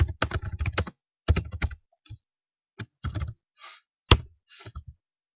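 JavaScript code being typed on a computer keyboard: quick bursts of close, crisp key clicks with short pauses between words, ending in a few isolated taps.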